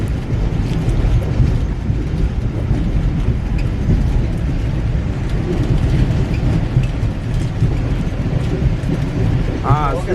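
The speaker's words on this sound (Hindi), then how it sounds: "ट्रेन ने रानीपुर रियासत के स्टेशन को थ्रू पास किया" The Shalimar train running from Karachi toward Rohri, passing through Ranipur station, with a steady heavy rumble and rattle rolling on loudly without a break.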